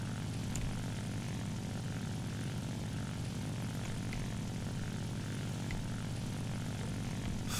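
Droning propeller engine of an IL-2 ground-attack aircraft in the combat game War Thunder, a loud, steady, unbroken hum held for the whole stretch with no talk over it.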